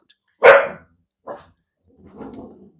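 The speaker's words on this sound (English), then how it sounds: "Yeah, what a guard dog you are." A guard dog barks at close range: one loud sharp bark, a shorter second bark, then a lower, softer growling bark trailing off.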